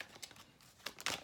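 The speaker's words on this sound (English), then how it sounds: "I'm just doing a little bit more shuffling as usual." Tarot cards being shuffled, with a few soft papery riffles and crinkles close by and quiet, ending in a brighter burst of card flutter.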